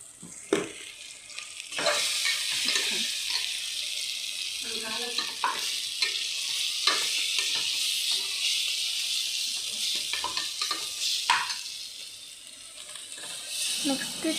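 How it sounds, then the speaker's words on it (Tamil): Chili powder sautéing in a pan while being stirred, a close steady sizzle and hiss broken by repeated scraping and clinks of the spoon, with a voice speaking faintly now and then. "1 டேபிள் ஸ்பூன் மிளகாத்தூள் போட்டுட்டு நல்லா வதக்கிக்கணும்."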